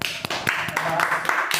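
A few sharp hand claps, about five spread unevenly across a short stretch, ring out in a Hindi-language coaching class for Bihar police and SSC exams, with voices talking alongside them.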